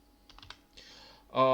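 A computer keyboard being typed on while entering Arduino code in an online simulator: a short burst of a few quick, close key clicks, followed by a voice starting at the end.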